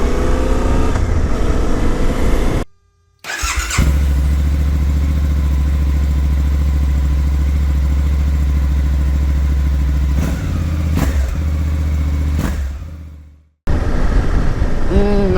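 Suzuki V-Strom 800 DE motorcycle on a ride, a loud, close engine drone with wind noise and rev changes, broken by two short dropouts, no one speaking.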